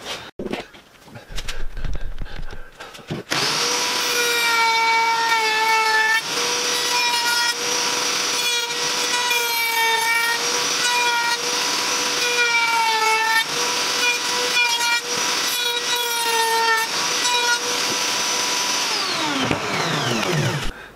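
Power sander working on a wooden stool, a loud steady whine running continuously for most of the stretch after a brief quieter start, winding down at the end.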